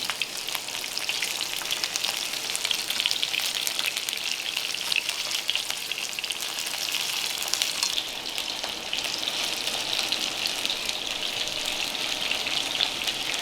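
Chicken thighs, skin side browned, frying in a pan in a Japanese restaurant kitchen give off a steady, close, crackling sizzle that holds evenly throughout with no talk.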